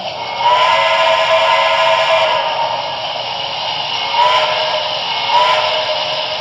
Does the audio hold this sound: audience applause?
no